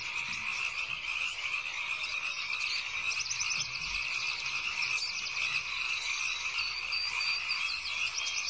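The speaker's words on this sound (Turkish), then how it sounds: "neşeyle zıplayan kurbağaları izlerim. Çıkardıkları sesleri dinlerim." Many frogs croak together in a dense, continuous chorus of rapid trilling calls, steady and moderately loud throughout.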